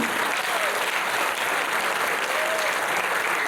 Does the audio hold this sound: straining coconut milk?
no